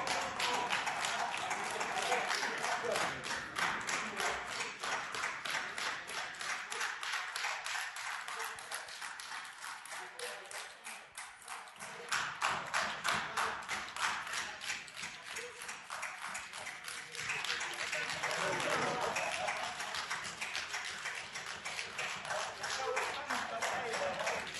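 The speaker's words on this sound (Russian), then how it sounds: "Топали ногами, устроили аплодисменты." An audience in a parliament hall stamps its feet and applauds, a dense, rhythmic patter of claps and thumps that rises and falls, with voices mixed in.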